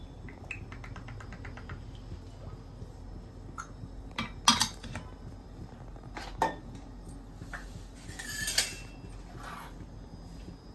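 A kadai is set on a stove and oil is poured in, bringing a few sharp metallic clanks and scrapes of cookware over quiet kitchen background, spaced out and fairly close.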